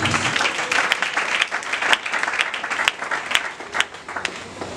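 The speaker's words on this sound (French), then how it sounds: "Acclamons pour le Seigneur de Jésus." A church congregation at a French-language service bursts into loud, sustained applause, dense clapping from many hands filling the room.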